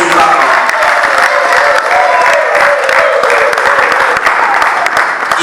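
A crowd at a family celebration applauds steadily and loudly for a couple's parents, dense clapping filling the whole stretch with some cheering mixed in.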